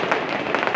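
Fireworks set off during a Diwali celebration in Frankfurt, Germany, heard as a dense run of crackling pops and bursts that stay loud throughout, with no climbing whistle standing out.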